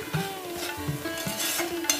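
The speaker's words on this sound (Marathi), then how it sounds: "मसाले ना व्यवस्थित तेलावर आपल्याला परतून घ्यायचे होते" Spice masala sautéed in oil for an Agri Koli style crab curry, with a soft sizzle under scraping spoon strokes and light clinks of the pan.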